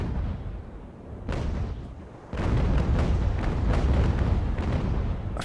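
Cannon broadsides from sailing warships in the Ultimate Admiral: Age of Sail naval battle game, heavy booming blasts rolling one after another, with a dense, sustained barrage of overlapping shots building in the second half.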